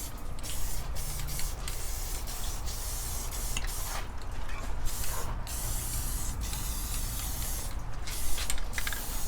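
A car gauge cluster gets a second coat of Duplicolor spray paint, the can hissing in a series of close, steady bursts with brief pauses between passes.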